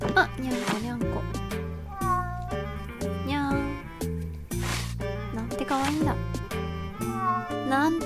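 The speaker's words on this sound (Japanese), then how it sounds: "あ、にゃんこにゃんこ。" A cat meows in the video game PopoloCrois, a few short cartoonish cries over bouncy in-game music.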